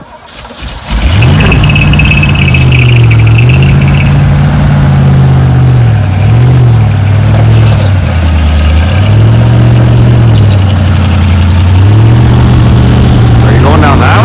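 A 1935 Ford three-window hot rod, built as a rat rod, catches on its first startup of the season and settles into a loud, steady idle with a lumpy, uneven throb that rises and falls through the run.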